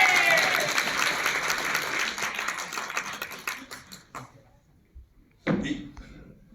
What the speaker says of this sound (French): je demande aussi un tonnerre d'applaudissements pour Gilbert Lévy.